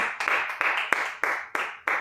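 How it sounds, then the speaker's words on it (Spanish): A church congregation claps in a steady, rhythmic unison beat, with sharp repeated claps about every third of a second, moderately loud and close, with no talk over it. "Vamos a darle un fuerte aplauso a Cristo."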